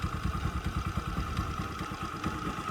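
A Honda Dio AF-62 scooter engine idles with a low, rapid, slightly uneven putter, steady throughout at moderate distance, with a faint whine riding above the chugging.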